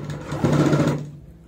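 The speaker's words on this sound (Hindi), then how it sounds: "यहां से हम स्टार्ट करेंगे सिलाई" A sewing machine stitches fabric for a travel bag in one short, fast whirring burst of about a second, close by, then stops.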